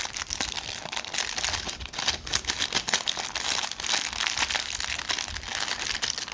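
Crinkly paper rustles and crackles continuously as a chewed-up toy turnbuckle from a wrestling figure set is unwrapped, close and busy with irregular crunchy bursts.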